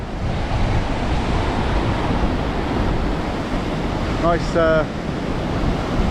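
Waves wash steadily onto the beach at Cannes, France, with wind buffeting the microphone throughout; a brief high chirping sound cuts in near the end.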